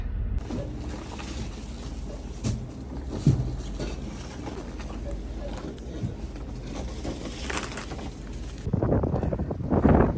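Steady broadband wind roar buffets the microphone throughout, with occasional gusts and rumbles, and a louder burst near the end.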